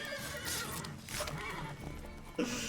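A horse in The Witcher 3 lets out a couple of close, shrill whinnies, with faint hoof clip-clops and a short bump of movement near the end.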